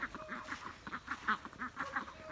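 Domestic ducks on a stream quack repeatedly in a busy, overlapping chorus, nasal calls coming in quick irregular bursts at moderate distance.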